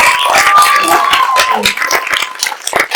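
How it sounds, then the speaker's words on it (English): A theatre audience applauds after a student performance, dense close clapping filling a few seconds. "let's give them one more round of applause"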